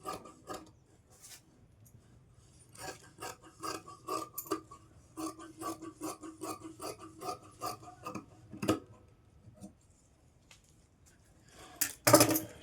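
Scissors cutting fabric for a girl's palazzo top, heard as close, quiet bursts of crisp snipping and rasping in irregular clusters, with a sharp clack near the end and no talking.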